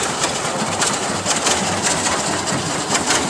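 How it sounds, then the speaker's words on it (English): A loud, steady engine rumble runs throughout, an old 1945 John Deere Model D tractor chugging close by in a parade with a rough, continuous drone and no talking. "Whiteville Reynolds passing us by here on an old John Deere tractor."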